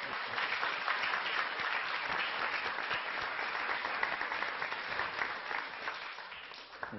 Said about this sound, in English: could we give a round of applause to everyone who helped make this happen